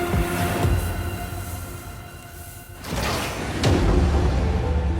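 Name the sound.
mountain train sandbox blasting sand in front of the wheels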